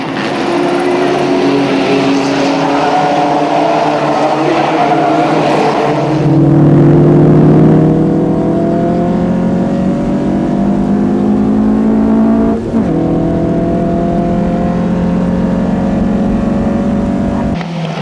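Historic race cars roar off the start of the 1989 Lanvin Golden Age Grand Prix, a loud massed engine din that rises into overlapping revving tones as the field accelerates away, steady and close throughout.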